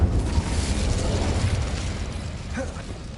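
A video-game Incendio fire spell is cast: a loud fiery whoosh and burst hits at once, then roars and slowly fades into a crackling tail, with a faint voice near the end.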